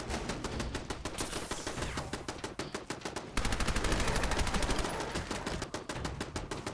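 Rapid automatic turret gunfire in Fallout 4 rattles in long continuous bursts, loud and close, growing denser partway through, with no talking over it.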